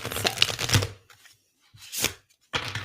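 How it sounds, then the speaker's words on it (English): A deck of 78 tarot cards being shuffled by hand in bursts of riffling and slapping card sounds, close and fairly quiet, with short pauses between bursts. "tarot cards are never as easy to shuffle"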